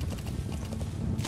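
Horse hooves clip-clop at a steady trotting rhythm in Metal Gear Solid 5: The Phantom Pain, moderately close amid faint game ambience, with no speech.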